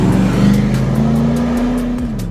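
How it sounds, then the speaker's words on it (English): A Land Rover Defender 110 fitted with a 430 horsepower LS3 V8, six-speed automatic and a quieter Baller Sport exhaust, giving a steady, loud, close engine drone with a sustained low tone that holds, then drops slightly near the end. "A 430 horsepower LS3 V8, paired with a smooth 6-speed automatic transmission"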